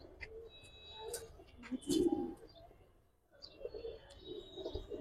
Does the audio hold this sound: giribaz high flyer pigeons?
yes